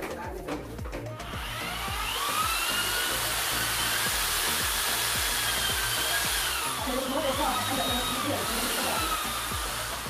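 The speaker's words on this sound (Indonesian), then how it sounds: "Aku saranin kalau mau beli alat bor, beli yang pakai baterai aja ya teman-teman, jangan yang pakai kabel yang seperti aku pakai ini" A corded electric drill runs continuously with a steady high whine for most of the stretch, close and fairly loud, after a short start with knocking sounds, during work on a 2-meter decorative tree for a dining room.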